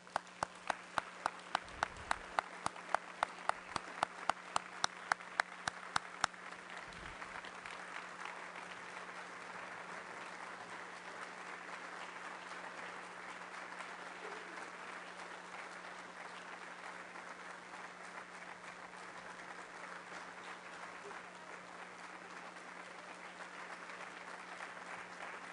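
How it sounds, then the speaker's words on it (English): Audience at a Rotary Club of Denver meeting applauding, a few sharp individual claps at first, then sustained, even crowd clapping that continues steadily for over twenty seconds at moderate distance. "Let's give them a round of applause."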